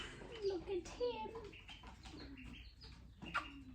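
A pet bird gives soft cooing calls and short chirps close by, quiet and intermittent, with a person talking over it.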